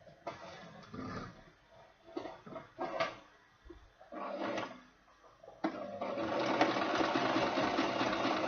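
A sewing machine top stitches around an Ankara fabric bag close to the edge, running in short bursts at first and then in one longer steady run.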